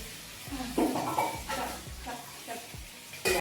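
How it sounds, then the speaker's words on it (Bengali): Food being stirred in a cooking pot over heat, with soft scraping strokes and a faint sizzle underneath, close and fairly quiet, ending in a brief louder clatter. "এই যে আমি একটু নাড়া দিতে আসছি ও কষাইতে লাগবো"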